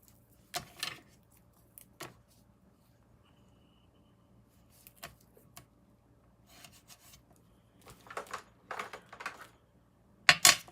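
Sporadic crinkly rasps and short tearing sounds of double-sided adhesive tape being handled and pulled, with quiet gaps between, ending in a sharper rip.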